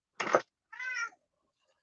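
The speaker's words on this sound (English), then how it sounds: "we have a cat in the room" A cat meows twice indoors, close and clear: a short, sharp cry, then a longer, tonal meow, followed by silence.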